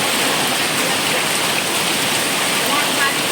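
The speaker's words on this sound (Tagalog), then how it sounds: "Yan, ang lakas po ng ulan." Heavy rain pours down in a loud, unbroken broadband hiss, dense and close throughout the short stretch with no pauses.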